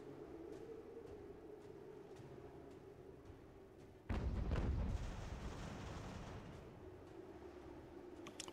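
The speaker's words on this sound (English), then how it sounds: "That was a nice shot by the cannons." Cannon fire in the strategy game Ultimate General: American Revolution, a sudden heavy booming burst of artillery that rumbles and decays over several seconds above a steady low battlefield ambience, with no talk.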